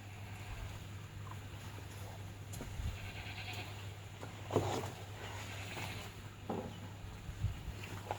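Faint goat bleats sound now and then from a distance over a constant low mechanical hum and outdoor background noise.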